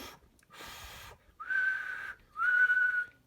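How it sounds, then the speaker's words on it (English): Breathy blowing followed by two clear whistled tones, each held for under a second, close and alone. "Suddenly, out came a real whistle."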